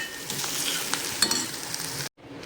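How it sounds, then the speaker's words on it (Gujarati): Sliced onion fries in a pan with a steady, close sizzle and light stirring scrapes, then a brief cut near the end before the sizzling resumes. "મારી ડુંગળી બેસી નથી ગઈ ને ના ના બેસી નથી ગઈ અને સરખું હલાવી અને ચડવા દઈએ"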